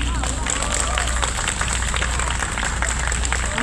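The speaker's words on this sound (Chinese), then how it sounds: "让我们掌声欢迎 Alex P. Rodney、亚利普洛尼。" An audience at the Taichung Jazz Festival applauds to welcome pianist Alex Pryrodny, a dense and continuous wash of many hands clapping close by.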